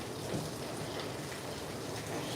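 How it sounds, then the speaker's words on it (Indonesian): Rain falling steadily outdoors in Indonesia, a constant broadband hiss and patter with no voices and no pauses. "Alhamdulillah, hujan."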